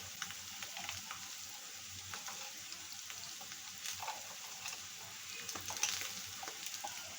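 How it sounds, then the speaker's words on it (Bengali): Egg korma masala with duck eggs sizzles and fries steadily in a pan while being stirred and cooked down, a continuous close crackle with faint scraping throughout and no talking. "এবার আমি ভালো করে কষিয়ে নিচ্ছি।"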